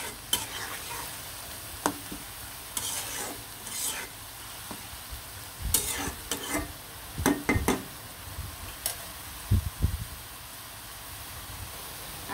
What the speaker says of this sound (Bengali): খুব সুন্দরভাবে কিন্তু শাকটা ভাজা ভাজা করে ফেলবো।